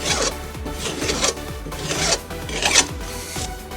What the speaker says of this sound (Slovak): zoberiem si plochý pilník a s minimálnym uhlom si to len začistím